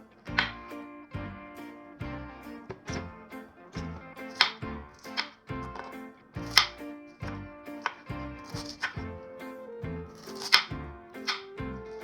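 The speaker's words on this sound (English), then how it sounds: "Chop half of the cabbage into strands." A knife chops half a cabbage into strands on a board, a quick run of crisp separate cuts landing in uneven rhythm, close and clear against a quiet background.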